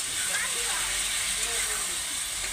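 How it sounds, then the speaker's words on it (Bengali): Water added to ground spices frying in oil, giving a loud, continuous bright hiss and sizzle that holds steady throughout, with faint voices underneath. "হালকা একটু জল অ্যাড করছি এখানে কষানোর জন্য"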